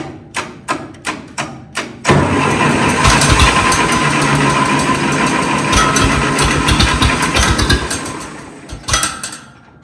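An engine cranks with several short rhythmic thumps, then catches and runs loudly with a rough, chugging idle before winding down near the end.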